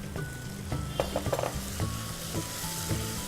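Tomatoes dropped into frying onions in a pan, a strong sizzle with repeated spoon scrapes and clinks against the metal pan and a low cooking hum, close and without talk.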